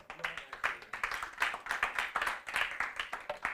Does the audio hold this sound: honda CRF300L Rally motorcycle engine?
no